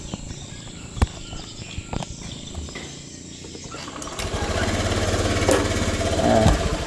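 A motorcycle with a newly replaced rotor and an ongoing misfire is restarted during a workshop repair, settling into a steady, fairly close running note after a few scattered knocks and clicks.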